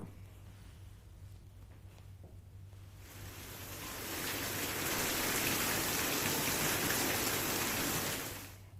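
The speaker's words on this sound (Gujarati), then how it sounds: "મુન્દ્રાના વવાર વિસ્તારમાં વરસાદી ઝાપટા પડ્યા છે" A steady hiss of rain showers in Mundra, Gujarat, building from a quiet patter into a heavy, even downpour that holds for several seconds before easing slightly.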